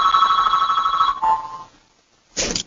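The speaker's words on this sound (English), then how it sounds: "It's my fax machine, and I apologize." A fax machine rings with a loud, close electronic trill in two bursts separated by a short silence, with no voices.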